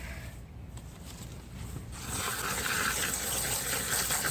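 Water is poured onto the exposed roots of a young banana plant during propagation. A soft hiss builds into a steady, close rushing pour that continues to the end.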